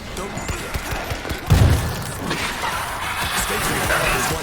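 Gunfire in the zombie shooter World War Z rattles in quick bursts under an excited voice, with a sharper close blast partway through and a dense, continuous din of shooting afterward.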